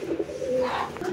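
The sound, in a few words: Lakkha pigeon cooing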